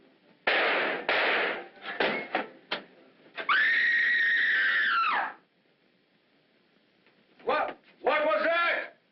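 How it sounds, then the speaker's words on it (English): In a 1945 American film noir mystery, a person lets out a loud, sustained high-pitched scream lasting over a second, with more short shrill cries and sharp bursts around it. "Who screamed?"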